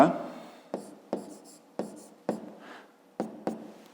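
Handwriting on paper during a fifth-grade maths exercise, a series of short distinct pen strokes and scratches at a steady rhythm, close and fairly quiet.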